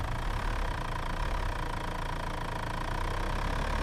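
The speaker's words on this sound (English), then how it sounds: "That's when he noticed the truck." A truck engine idles steadily on a road, a continuous low rumble with a faint tonal hum, close and unbroken, with no voices.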